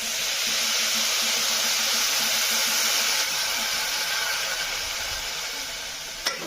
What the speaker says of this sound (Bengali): ভেজে নিয়ে এবার দেবো জল ঢেলে।